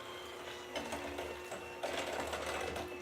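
An electric mixer whirring through sugar cookie dough, a quiet steady motor whine with faint rhythmic thumps and surges as the beaters work the dough.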